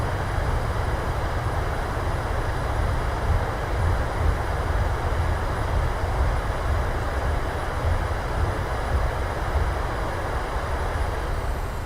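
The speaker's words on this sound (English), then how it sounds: "Reversers, goes down gently, maintain center line." Airliner thrust reversers roaring on landing in Microsoft Flight Simulator, a Qantas flight arriving at Hobart: a steady, loud, broadband rumble and whoosh that holds at an even level for the full stretch, with no talk.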